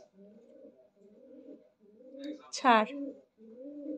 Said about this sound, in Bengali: ওই দেখ কে ডাকছে রে, পায়রাগুলো ডাকছে।